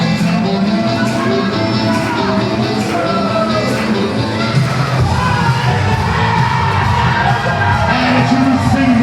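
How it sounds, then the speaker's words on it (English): A packed wrestling crowd roars and cheers before a tag team championship match at an independent pro wrestling show, loud sustained cheering with whoops and shouts throughout. "This crowd is ready to come unglued here."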